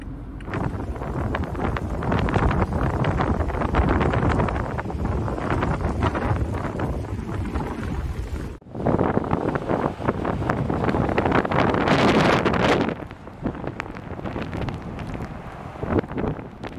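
Strong gusting wind in a Saskatchewan snowstorm, roaring steadily and loudly against the microphone, with a brief break midway and a quieter stretch near the end.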